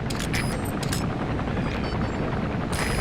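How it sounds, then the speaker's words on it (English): A helicopter comes in to land in the game Metal Gear Solid V, its dense, loud rotor and engine roar filling the scene steadily, with sharp clattering transients near the start and end. "There's a chopper landing."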